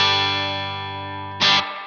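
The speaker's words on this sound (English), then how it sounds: "The TC Electronic gives you switchable reverb." A TC Electronic reverb pedal run through a guitar amp, a sustained chord ringing and slowly decaying with a wash of reverb tail, then a brief louder burst of strummed noise near the end.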